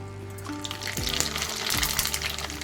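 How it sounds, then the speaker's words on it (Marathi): Rice-flour pali papad hits hot oil with a loud, close, bubbling frying crackle that swells and continues steadily over a low background hum. "हे पहा आपलं आता तेल चांगलं तापलेलं आहे आता आपण त्यामध्ये पापड टाकणार आहोत"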